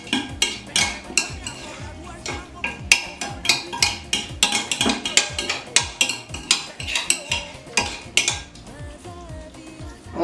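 Spoon clattering against a pan while garlic and chopped onion are stirred, a brisk run of close metallic scrapes and taps in an irregular rhythm, with faint sizzling underneath.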